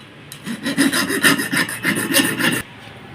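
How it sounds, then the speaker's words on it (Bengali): A file rasps back and forth across a piston ring for a 12-horsepower engine, trimming it to size: about two seconds of quick, steady, evenly spaced scraping strokes, close and clear, then it stops. "আমাদেরকে কিন্তু কাটতে হবে এভাবেই রাত দিয়ে ঘষে ঘষে কিন্তু আমাদের মিল করে নিতে হবে।"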